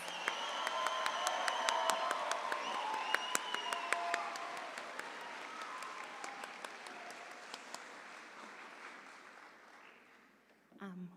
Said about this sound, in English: may I please have a resounding applause for the graduating class of